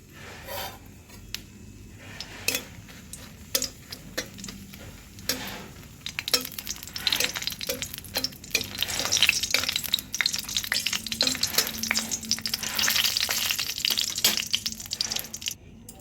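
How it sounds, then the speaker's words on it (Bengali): Green chilies frying in hot mustard oil in a wok, with scattered sharp crackles that build into a dense, continuous sizzle with stirring and spattering, close by and with no talk. "সর্ষের তেলটা গরম হয়ে গেছে প্রথমে আমি লঙ্কাগুলোকে ভেজে নেবো"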